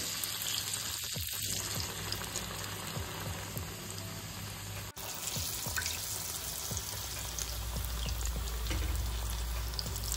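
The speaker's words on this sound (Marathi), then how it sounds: "बेसन पिठात डिप करायचे आणि पॅनमध्ये आपण छान ते तळून घेऊ" Bread slices dipped in besan (gram flour) batter fry in a pan, giving a steady, soft sizzle and crackle with scattered pops, close and continuous with no talking.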